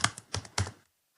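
Keystrokes on a computer keyboard while writing button text for a CSS web page, three quick clusters of close, soft clicks, then silence and one faint final tap.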